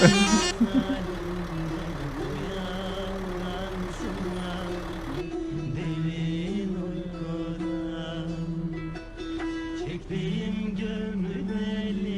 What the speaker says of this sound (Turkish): Hadi otobüs kalkıyor hadi bakayım.